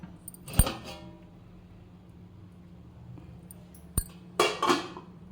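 The metal lid of an idli steamer pot lifted off after modak finish cooking, giving a sharp clank, then a lone tap and a few quick metallic clinks close by.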